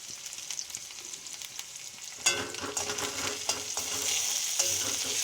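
Green chili stirred in a frying pan for a fish curry, a steady hiss at first, then louder sizzling with scraping spatula strokes from about two seconds on, close and continuous with no talk.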